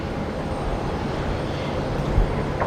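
A jet airliner, a 747, landing at Brisbane Airport gives a steady, broad engine roar from a moderate distance, holding an even level throughout with a slight rise near the end.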